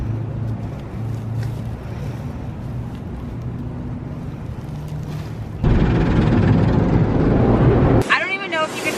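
An automatic car wash runs loud around a car, heard from inside the vehicle as a steady broadband roar of water and machinery that grows louder partway through and ends in a burst of spray or blowers.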